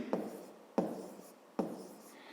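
A pen writes on paper in three close, quiet strokes, each starting with a light tap and trailing into a soft scratching rub while a math exercise is worked out.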